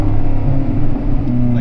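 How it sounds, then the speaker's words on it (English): A Ferrari California's engine rumbles steadily and loudly at close range, with a low, even drone and slight shifts in pitch as it downshifts. "you still can downshift and have it sound nice and good."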